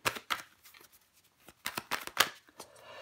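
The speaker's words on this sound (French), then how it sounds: "Je vais recouvrir des cartes pour vous," Tarot cards are flicked and turned over on a table, a handful of soft, close snaps and papery slides spread irregularly across a quiet stretch.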